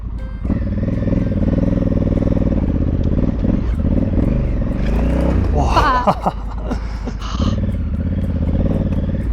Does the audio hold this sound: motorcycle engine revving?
yes